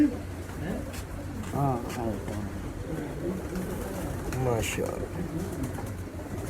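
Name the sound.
pigeons cooing at a farm house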